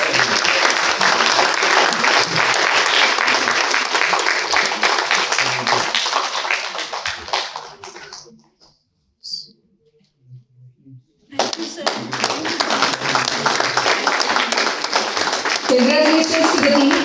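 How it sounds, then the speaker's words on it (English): Loud audience applause at a national moot court competition award ceremony, dense clapping for about eight seconds, a short near-silent pause, then clapping resumes just as strongly. "Give them a huge round of applause."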